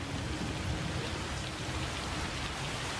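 Rain falls steadily outside, a dense, even hiss of drops that continues without a break, fairly loud and close.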